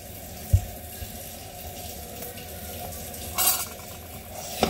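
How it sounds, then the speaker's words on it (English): Hot water runs steadily from a kitchen tap as a continuous hiss while Spanish-style rice is cooked, with a sharp utensil clink near the start and a brief clatter of dishes later. "So right around here I'm going to start the hot water because I need hot water."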